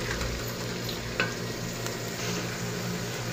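Okra frying in a pan for an aloo bhindi fry: a steady, broadband sizzle runs throughout, with one brief clink of a utensil partway through and a faint low hum beneath.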